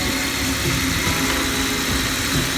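A 2004 Jeep WJ engine idling after power steering line and oil sender work, a loud, steady close rumble with even vibration throughout.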